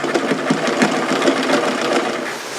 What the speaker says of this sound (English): It's a little loud, and that's typical of older sewing machines.